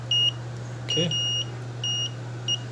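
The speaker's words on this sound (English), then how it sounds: "you touch those things together and see if it beeps" A thin electronic beep from a multimeter continuity test sounds four times in short bursts over a low steady hum.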